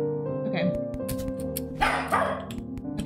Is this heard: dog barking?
yes